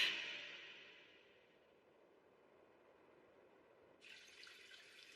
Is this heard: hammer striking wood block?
no